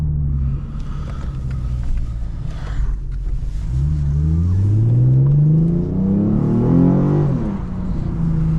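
A Lexus IS350 engine with tuned exhaust revs up with a rising exhaust note, droning loud and close, then settling back down.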